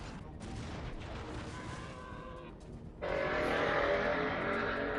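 Passing traffic in the video game Anachronox, a faint rumbling vehicle drone that fades, then a sudden louder rushing whoosh of traffic swelling in and holding steady, no voices.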